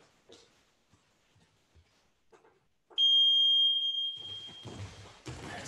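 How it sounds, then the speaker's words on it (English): A workout timer sounds one sustained high electronic beep for about a second, loud against a quiet room with scattered faint thumps, followed by shuffling activity noise. "So I'm gonna put the timer for 1 minute"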